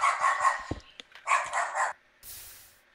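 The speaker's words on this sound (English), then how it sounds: "I just heard your doge bark, Dominick." A dog barks in a few sharp, close bursts, first a short cluster, then another pair after a pause, with a faint hiss trailing afterward.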